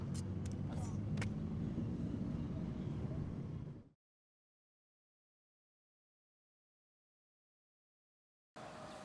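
Car driven fast through a city: steady engine rumble and road noise close by, cut off abruptly into silence and then resuming near the end.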